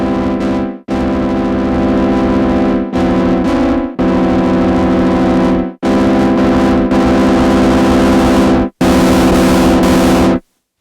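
Loud, harsh distorted synth tone from a Behringer synthesizer's drive circuit, with a thick buzzing harmonic drone, cut into several sustained bursts separated by brief silences.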